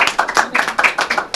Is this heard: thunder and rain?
no